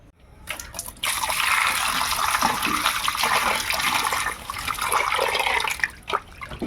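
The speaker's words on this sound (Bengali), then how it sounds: "আমি মাছটাকে ভালো করে ধুয়ে নিই।" Halua fish pieces are washed under water, with a steady, close splashing and rushing of water lasting about five seconds before tapering into a few drips and knocks.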